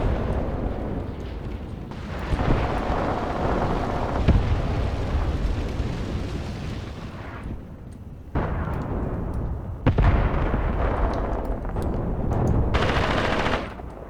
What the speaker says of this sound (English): Artillery strike, arriving down here.